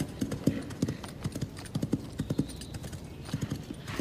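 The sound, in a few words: horse hooves clip-clopping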